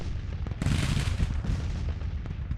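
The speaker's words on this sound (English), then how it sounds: "As our cannons boom, boom away" Civil War cannon artillery in a Grand Tactician battle rumbles in overlapping booms and deep rolling blasts, a dense continuous barrage with no voices.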